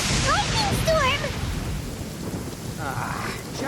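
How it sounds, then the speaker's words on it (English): Lightning storm in Genshin Impact: a heavy rumble of thunder over steady falling rain, with brief high chirps and whistles and a short warbling tone near the end. "Lightning storm!"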